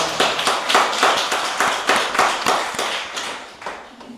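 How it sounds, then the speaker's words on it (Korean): An audience at a Korean peace symposium applauds steadily, a dense rhythm of many hands clapping together, loud and close, with the claps thinning slightly toward the end. "다시 한번 뜨거운 박수 부탁드립니다"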